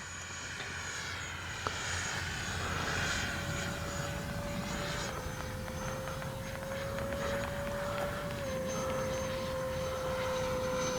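A Freewing 80mm MiG-21 RC jet flies past with a steady, continuous whine from its ducted fan, holding a sustained tone that dips slightly in pitch, with a faint brief click early on.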